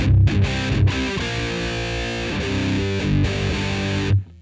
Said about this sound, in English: Almost a ratty type overdrive or distortion, like pushing into like fuzz territory